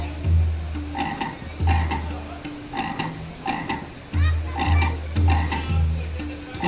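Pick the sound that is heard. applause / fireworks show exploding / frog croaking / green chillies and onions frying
frog croaking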